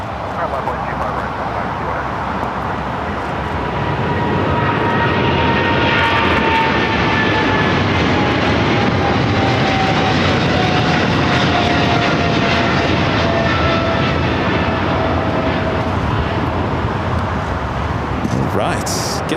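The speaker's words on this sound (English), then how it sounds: "Emirates A380 Super now rolling down." An Emirates Airbus A380 rolls for takeoff on runway 25 left at Los Angeles International Airport, its loud, sustained jet roar building and holding with a rising whine, while a voice talks faintly underneath.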